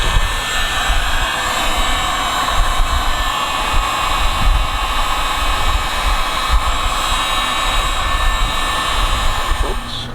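A nitro-fuelled engine in a 1966 Mustang RC car runs steadily at a high, buzzing idle with a whining tone, loud and close, holding constant throughout with no talking.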